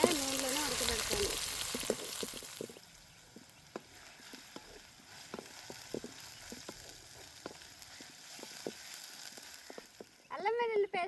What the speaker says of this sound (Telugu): అల్లం వెల్లుల్లి పేస్ట్ పచ్చివాసన పొయ్యేంత వరకు ఇలాగే నూనెలోనే ఉడకబెడతాను.